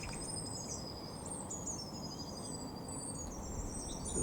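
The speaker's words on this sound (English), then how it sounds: "Sparrow hawk scaring lots of birds." Small birds give high, thin alarm calls as a sparrowhawk passes overhead, several repeated piping notes over a steady outdoor hiss, moderately distant.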